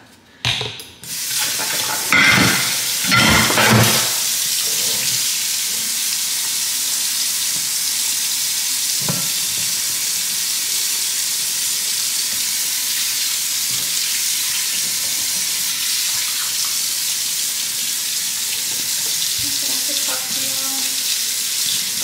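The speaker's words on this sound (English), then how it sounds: "So let me wash my hands." Water from a household tap runs steadily for about twenty seconds while hands are washed in a kitchen sink, a broadband hiss with a few louder splashes near the start.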